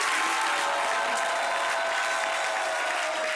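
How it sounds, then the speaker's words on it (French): Studio audience at a French-language talk show applauding, a continuous dense round of clapping at steady volume, with a faint tonal hum running beneath. "Applaudissements pour vous-même."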